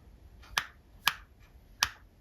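Three sharp, dry clicks spaced unevenly as a stripped pentalobe screwdriver tip slips, close up and fairly quiet against faint background hiss.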